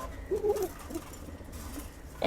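Soft, low coos from an English fantail pigeon at close range, a few brief murmuring calls over quiet background hum, ending in a sudden louder rustle.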